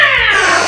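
A voice imitates an angry cat, a single loud, close hissing yowl with a harsh, drawn-out tone, heard alone during a kids' yoga cat pose.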